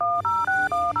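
A telephone keypad beeps out four dialing tones in quick, even succession, loud and clear with nothing else underneath.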